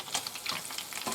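Oil bubbling and crackling around egg-battered fish frying in a pan, a brief, moderately quiet, continuous sizzle with tiny popping spikes and no talking.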